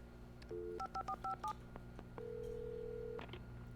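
A telephone in the video game Alan Wake Remastered being dialed, several quick touch-tone beeps in succession, then a long steady tone, clear and fairly quiet.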